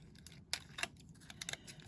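Scissors snip through sticky tin foil, several quick crisp cuts and crinkles at an irregular rhythm, close and fairly quiet.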